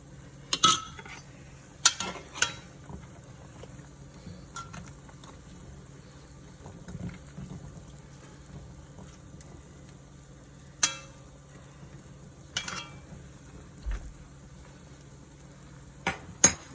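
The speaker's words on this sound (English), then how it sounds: "So that's bubbling." Soft bubbling and simmering of brown stew chicken gravy in a pot, with occasional clinks and stirring knocks of a utensil against the side, fairly quiet and close.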